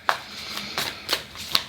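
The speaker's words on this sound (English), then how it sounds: "So let's go with the tarot cards." Tarot cards being shuffled by hand, with several crisp riffling bursts spaced about every third of a second, close and fairly loud with no talking.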